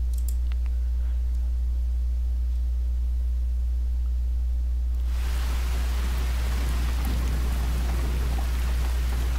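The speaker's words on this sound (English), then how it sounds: "we have these rain sound effects." Rain sound effect with a low steady hum beneath; the first half is quiet and sparse, then heavy rainfall switches on abruptly partway through and roars loud and continuous to the end.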